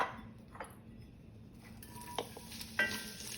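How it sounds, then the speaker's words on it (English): Onions and cauliflower in hot oil give a quiet, steady sizzle, broken by a few sharp clinks and scrapes of a utensil against the pan. "So it's kind of sizzling, you can hear that."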